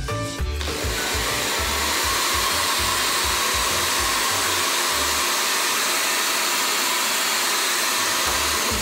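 A hair dryer roars loudly and steadily at close range, blowing a ball held in its airstream, a constant rushing whoosh that holds without pause from start to finish.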